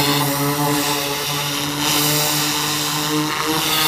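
A pressure washer, newly used for the first time, sprays water onto a car, its motor giving a loud steady droning whine with a strong hiss of water over the top, sustained without pause.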